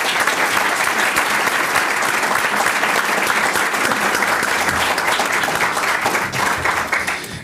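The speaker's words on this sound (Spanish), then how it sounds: "Un aplauso nuevamente." Audience applause at an honorary doctorate ceremony, a loud and sustained burst of crowd clapping that holds steady for several seconds before easing off slightly at the close.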